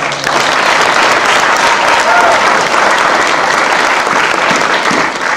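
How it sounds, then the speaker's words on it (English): An indoor audience at a talk gives a dense, loud round of applause, with steady clapping throughout. "Can we give Georgia a round of applause for her?"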